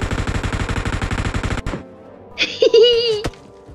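Gunfire in the mobile shooter PUBG Mobile: a rapid, loud, evenly spaced burst of automatic shots that stops abruptly, followed by a short voiced sound and game noises.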